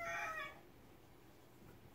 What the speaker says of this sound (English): You can hear the roosters in the background.